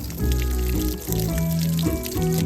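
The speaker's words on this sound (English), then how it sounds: "So if I open this valve right here, get a little bit of water." Water running out of a portable sheep water wagon tank through an opened valve, a close, gurgling trickle and splash in uneven spurts.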